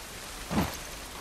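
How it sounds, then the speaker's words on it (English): Rain pours in The Last of Us, heard as a soft, steady hiss with a brief swell of heavier splashing near the middle; no voices. "look at that rain. Look at that. Oh, I love the sound."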